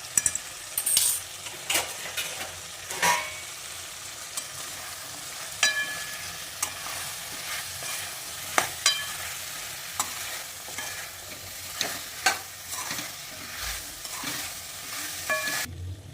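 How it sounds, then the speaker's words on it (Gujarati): Peas, potatoes and drumstick pieces are stirred in a sizzling oil-and-spice pan, with repeated scraping and clacks of the spoon against the pan over a steady frying hiss, no talking. "બટેટા, સરગવો, આ બધા શાકને મેં કટિંગ કરી ધોઈને રાખેલા છે। હવે આપણે આને સરસ રીતે બધું મિક્સ કરી લઈશું।"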